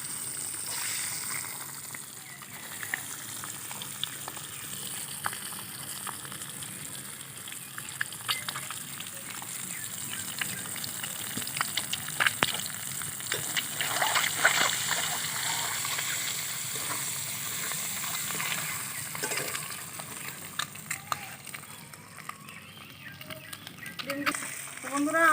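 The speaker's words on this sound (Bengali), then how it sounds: "ডিমগুলো ভেজে নিচ্ছি।" Eggs frying in hot oil in a pan for a Bengali egg curry, a steady broad sizzle running throughout at moderate level with occasional stirring clicks and scrapes, while a voice speaks intermittently over it.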